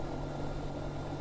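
A steady, droning small propeller plane engine at full throttle in VRChat, a constant low hum with a faint whine above it and no change in pitch, heard alone without voices.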